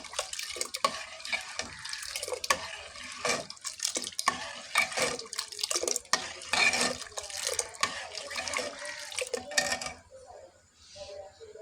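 Ginger paste is stirred in a cooking pan, with a utensil repeatedly scraping and clinking against the metal alongside wet sizzling, the strokes steady and close until they thin out near the end.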